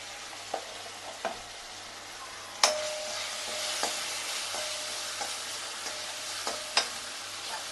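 Green chillies sautéing in a pan with crushed ginger-garlic and turmeric powder for a yogurt chilli curry: a steady, close sizzle with occasional sharp spatula clicks against the pan and no talking.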